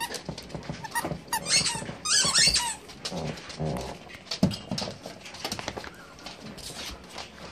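A dog in a pack chews a squeaky toy, producing scattered, irregular squeaks mixed with chewing, rustling and faint whimpering noises at close range.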